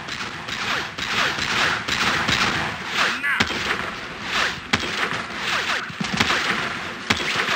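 Sustained gunfire fills a round of the online shooter Battlefield Heroes, with dense overlapping rifle and automatic shots and occasional louder blasts, a player's voice talking over it at times.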